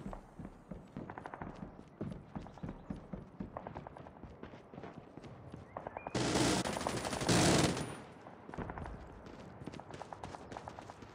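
Rapid mechanical bursts of automatic gunfire from a deployed sentry gun in the mobile shooter Call of Duty Mobile, steady rattling streams broken by a louder, denser blast midway, close and prominent throughout.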